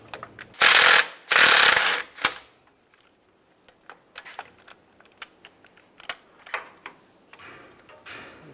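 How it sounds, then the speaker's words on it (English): A ratchet with a 15 mm socket loosening a bolt on a 2007-2013 Chevy Silverado during rear main seal work: two loud bursts of clicking early on, then sparse, faint ticks and clanks of tools nearby. "Loosen that up, take that bolt out."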